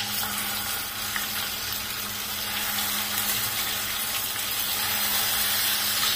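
A ground paste of coconut, tomato, onion, ginger and garlic frying in a pan for a soybean curry, a continuous moderate sizzle with a soft rushing hiss and some stirring.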